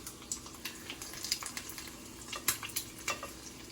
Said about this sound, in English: once the tortilla is fully cooked on one side, you flip it over so that the egg finishes cooking